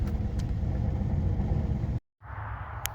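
A Buick Park Avenue engine running after sitting unused for over eight years, a steady rough rumble close by, cutting out briefly before resuming at a lower level.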